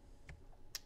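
Arrow keys on a computer keyboard pressed twice, two soft, quick clicks in a quiet room.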